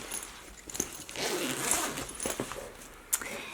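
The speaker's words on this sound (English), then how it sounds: "unzip the zipper pulls all the way" Zipper pulls on a sewn bag loop being drawn all the way open in a sewing workspace, a close, fairly quiet run of ratcheting zip strokes with a few sharper clicks and a final snap near the end.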